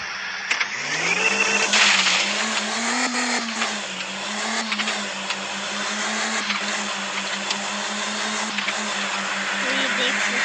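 A video-game race car drives at full speed, its steady engine drone running throughout with a slight rise and dip in pitch, loud and close, under a continuous electronic game soundtrack.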